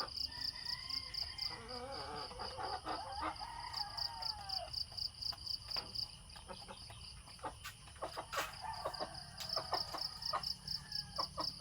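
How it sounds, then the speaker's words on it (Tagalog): Two hens and other chickens cluck and call in a yard on a rainy morning, with a rooster crowing at moments and crickets chirping steadily throughout at low volume. "Ayan po ang aking manok."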